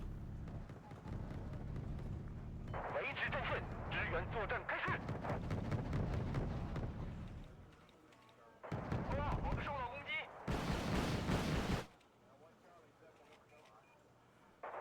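Rocket artillery from a BM-24 launcher strikes in a military strategy video game, heavy booming impacts rumbling alongside ongoing game noise, with a louder broadband blast burst near the end, under occasional talk.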